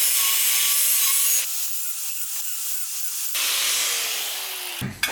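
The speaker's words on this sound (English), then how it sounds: "for now, good old grinder will do." An angle grinder rounds off the edges of aluminum parts for a car build, its steady loud hissing whine shifting in pitch as the disc bites and eases, ending in a short clatter.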